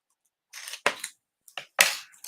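Scissors trim card paper in a handful of short, crisp snips and slicing strokes, close and distinct, separated by brief silences.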